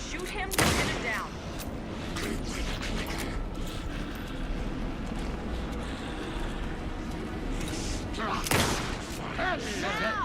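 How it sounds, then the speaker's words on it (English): Gunfire in the video game Alan Wake 2: loud bursts of shots, one near the start and another late on, over a busy noisy battle with voices shouting through it. "Shoot him, pin him down."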